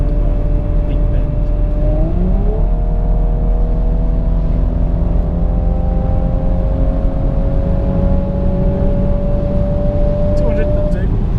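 Audi S4 B9 Avant estate accelerating hard on the Autobahn in fifth gear, a loud continuous engine drone with a steady upward sweep in pitch as speed builds, wind roar throughout and a driver speaking briefly over it.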